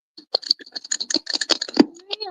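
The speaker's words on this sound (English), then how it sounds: "Listen to her typing with her nails." Rapid clicking of fingernails tapping on a computer keyboard, an irregular run of sharp close taps lasting a couple of seconds, with a faint voice in the background.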